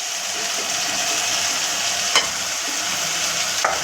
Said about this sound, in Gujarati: હવે એને અમે સરખી રીતે હલાવી લઈશું